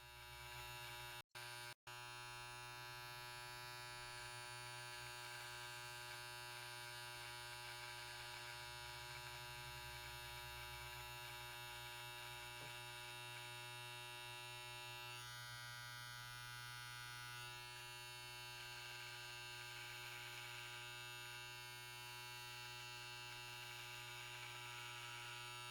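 An electric shaver buzzes steadily and close up throughout as a man shaves off his mustache, a continuous electric hum with only a brief break near the start and no talking.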